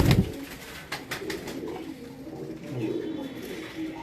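Pigeons of a single breed coo on a Faisalabad rooftop loft, soft repeated low coos rising and falling against light background rustle, with no talk.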